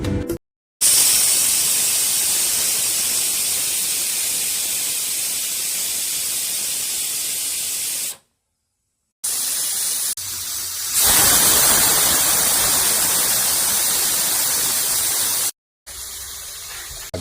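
A pressure cooker on a gas stove lets out long, loud steam whistles, each a sustained hiss lasting several seconds, broken by short silent gaps before the next one starts.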